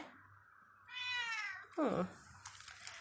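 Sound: cat meowing

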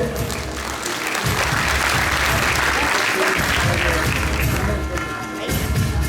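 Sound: applause for prize winners

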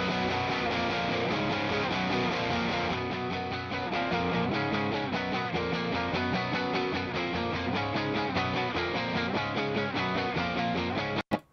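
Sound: Stratocaster electric guitar with Vox-style amp tone

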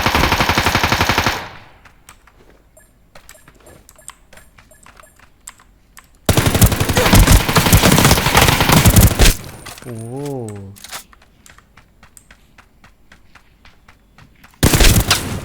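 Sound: gunfire in video game Ring of Elysium

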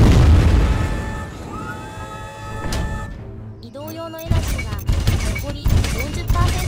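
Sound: robot firing a cannon in video game Dual Gear

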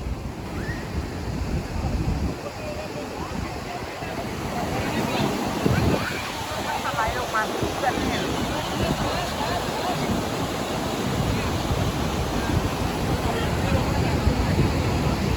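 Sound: large waterfall

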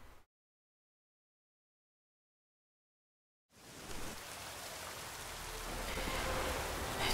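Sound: rain in the video game The Witcher 3

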